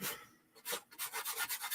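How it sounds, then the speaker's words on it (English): Close, brisk rasping of an emery board rubbed back and forth across a paper card edge, a few strokes then a quick rhythmic run. "I'm going to just sand this off"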